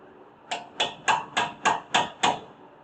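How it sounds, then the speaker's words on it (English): Seven evenly spaced hammer taps ring out while front brakes and rotors are being replaced on a 2007 Chevrolet Tahoe, each strike sharp and close with a short metallic ring, no voices. "Tighten them up a little bit with the hammers."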